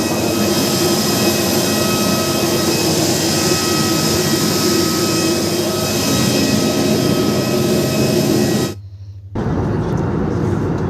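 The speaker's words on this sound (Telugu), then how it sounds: "ఇంకా ఫ్లైట్ ఎక్కేసి ఇంకా టేకప్ అయింది ఫ్లైట్." A passenger airplane takes off, heard from aboard, with jet engines holding a loud, steady roar and whine. The roar cuts off abruptly near the end, and a quieter cabin hum follows.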